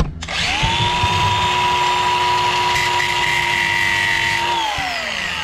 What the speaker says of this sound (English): It's not a cutting wheel. It's a cut and grinding wheel.